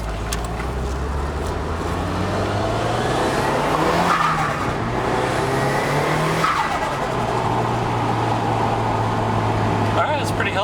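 A Nissan Silvia S15 with a Nismo transmission drives along, the engine note rising and then dropping at two smooth gear shifts, with a brief tire squeal and a person talking throughout.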